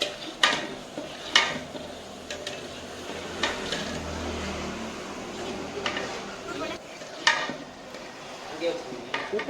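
Mutton biryani masala being stirred in a large pot, enough for a 3 kg batch, with a few sharp metal clinks of the spoon against the vessel over a low, steady cooking hiss.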